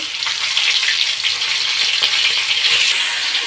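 Steady, loud sizzle of rohu fish frying in hot oil in a wok after being turned to its second side, dense crackling throughout with no voices.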